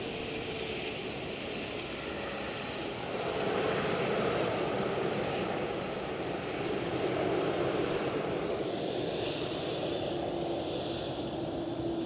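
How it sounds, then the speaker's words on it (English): A Boeing Dreamliner taxis at Edinburgh Airport, a steady engine rumble and hiss at moderate distance that swells slightly midway and stays continuous. "Dreamliner on the move."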